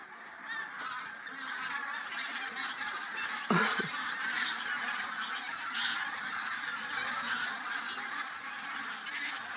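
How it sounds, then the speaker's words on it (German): A large flock of geese cackles and honks continuously at a distance, a dense, busy chatter of many birds with a louder call standing out briefly partway through. "das war ein mega, mega Geschnatter und das war echt schon von Weitem zu hören"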